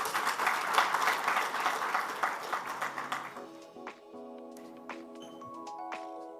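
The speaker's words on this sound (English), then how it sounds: "Let's give her a round of applause." A crowd at a banking sustainable finance summit and awards event applauds warmly for a few seconds. The clapping then fades out while bright stage music with sustained tones and light percussive hits takes over.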